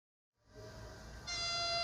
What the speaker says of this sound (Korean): KTX 열차가 김제역 플랫폼으로 들어섭니다.